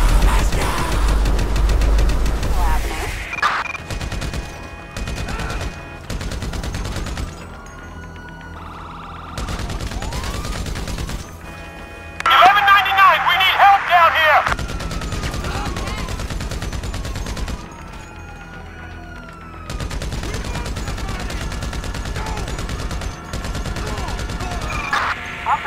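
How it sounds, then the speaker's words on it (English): Gunfire during a Grand Theft Auto 5 police chase in the city, with repeated bursts of rapid automatic shots and single cracks over several stretches, along with siren-like tones, loud and close with no one speaking. "Shots fired at an officer."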